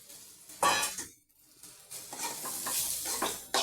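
Boiled, peeled peanuts being stirred in spiced oil: bursts of scraping and rattling from the spoon over a soft sizzle, with a brief near-silent pause before stirring resumes steadily.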